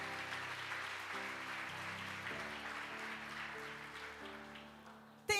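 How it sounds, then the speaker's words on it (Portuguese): Applause from a church congregation during a Sunday morning service, a faint, steady patter of clapping that slowly tapers off, with a soft sustained tone beneath it and a brief louder knock at the end. "Dá mais uma salva de palmas a Jesus."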